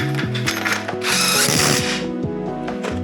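Ratchet clicking steadily as bolts are backed out on a Datsun 240Z during a 1.5JZ turbo engine swap, a close, loud run of rapid pawl clicks with a brief faster burst midway and no talk.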